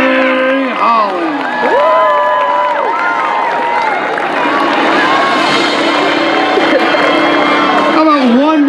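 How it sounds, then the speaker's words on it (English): A crowd at a high school senior homecoming ceremony cheering, whooping and clapping, loud and sustained, with excited shouts and voices mixed throughout. "How about one more round of applause for the senior homecoming court, Ms. Molly Morgan, Ms. Emily O'Grady"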